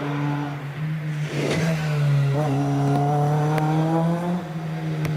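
A rally car accelerates hard up a hillclimb stage, its engine note climbing steadily through a gear change with a brief clattering burst, loud and fairly close with no voices.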